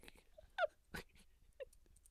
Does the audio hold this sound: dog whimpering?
yes